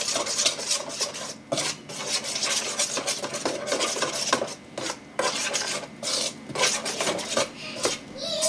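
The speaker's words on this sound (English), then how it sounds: "I'm just going to mix that in using a spoon as a dough hook" A spoon scrapes and rasps steadily through pizza dough in a bowl, a continuous close gritty rubbing with brief pauses as the mixing strokes change, with no voices.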